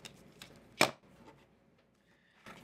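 A rotary cutter trimming the edge of a fabric star quilt block, heard as a few quiet, short scraping strokes with one louder, sharp pass near the start and no talking.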